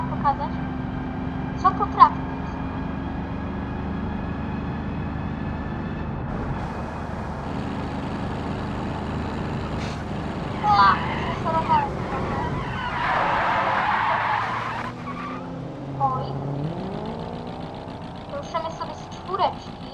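Autobello Piccolino from BeamNG.drive driving onto a highway, a steady low engine drone with rising and falling revs, a brief tyre-screech-like burst midway, and occasional talk over it.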